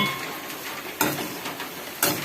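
Chilies dry-roast in a pan, a soft continuous rustling scrape with two sharper clatters of the spatula against the pan about a second apart, fairly quiet and close, with no talking.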